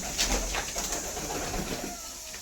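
Pigeons kept for sale coo in soft, low murmurs against a steady hiss of background noise, close by, with no talk.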